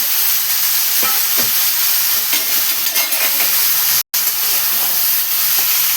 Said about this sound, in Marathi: हे बघा छान असं मिक्स करून घेतो